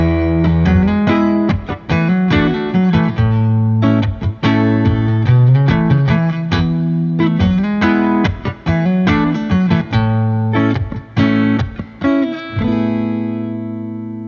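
A Fender USA Stratocaster on the neck pickup, distorted through a Tiny Terror amp, plays a run of chords and single notes, thick and loud, ringing out at the end.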